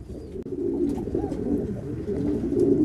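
French meat pigeons at a pigeon farm: soft, low cooing with gentle rising and falling murmurs over steady background rumble, nearby and continuous, no talking.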